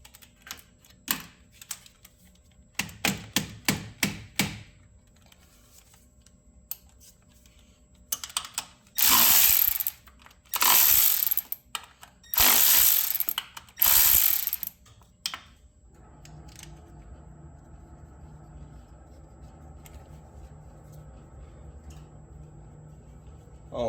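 A ratchet clicks in quick bursts while snugging bolts on a Ford F150 four-wheel-drive actuator motor, close and fairly loud, with several longer harsher stretches in the middle and a quieter mechanical hum near the end.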